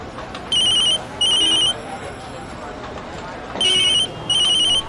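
A phone ringing in paired electronic trills, two bursts, a pause, then two more, over quiet background room sound.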